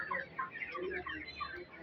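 Poultry on a farm raised on fermented feed: a steady chorus of clucking and gobbling fowl calls, fairly close and continuous, with no voices.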